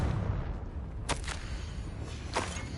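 Two fiery spell blasts from the Confringo fire spell in Hogwarts Legacy burst out about a second apart, each a sharp crackling explosion over a low, steady rumble of game ambience.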